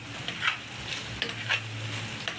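Ground meat fries in a pan for tortang giniling with a steady, even sizzle. Several sharp spoon-against-pan clicks from stirring break through at intervals, and no one speaks.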